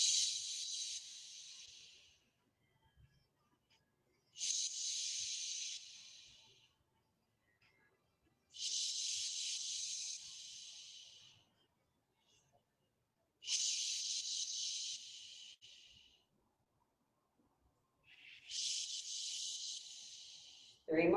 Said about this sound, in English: let's use that power breath and steam it out